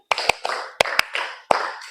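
Sharp hand claps and taps in an irregular sequence, some single and some doubled, close and crisp with a short ringing tail.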